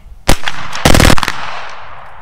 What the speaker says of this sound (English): Just try to bump fire it.